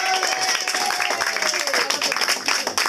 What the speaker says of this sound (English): Clap for Halloween. Keep clapping.